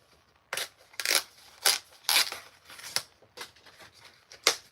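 Plastic packaging around a new set of scissors crinkles and snaps as it is torn open, a series of sharp irregular rustles and clicks, close and moderately loud with pauses between bursts.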